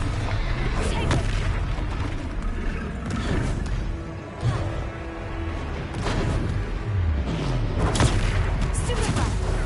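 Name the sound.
Stupefy spell combat blasts in video game Hogwarts Legacy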